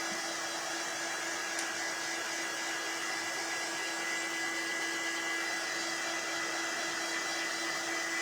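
Hair dryer blowing on a DIY stencil-and-transfer craft project, a steady whirring hum with a constant airy hiss, close and unbroken throughout.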